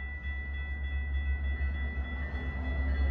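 Metra commuter train on the Milwaukee West line pulling into Franklin Park station, a steady low rumble and hum with a faint high whine, continuous and fairly close throughout.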